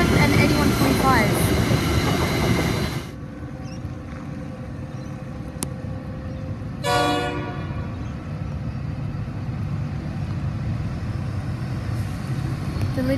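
A train hauled by locomotives NR73, LDP 009 and 9324 rumbles loudly with diesel engine roar, then sounds a short horn blast midway before the heavy engine drone carries on.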